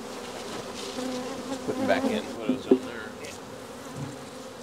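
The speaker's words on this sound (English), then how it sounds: "why are there so many bees here?" Bees buzz all around nearby at beehives, a dense droning hum with individual insects swelling closer, while a person speaks briefly over it.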